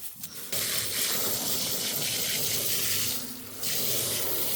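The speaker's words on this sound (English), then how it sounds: "this is really dry, so I'm going to give it a good water." Water pours steadily from a hose onto a dry garden bed, a loud continuous hissing spray that briefly dips and then resumes, close by.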